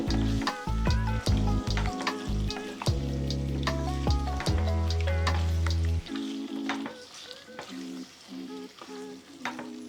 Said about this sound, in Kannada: ಈಗ ನೋಡಿ ಇದನ್ನು ಹೀಗೆ ಫ್ರೈ ಮಾಡಬೇಕು ಸ್ವಲ್ಪ